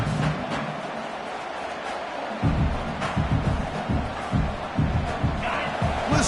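A football stadium crowd roars in the early going of a game with no letup, a broad continuous roar punctuated by rhythmic swells and thumps that grow stronger midway.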